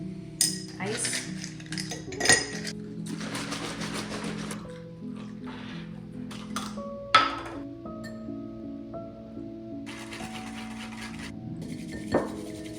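Ice cubes are dropped into a glass for an iced matcha drink, giving sharp clinks and clatters among other kitchen sounds, all played under background music.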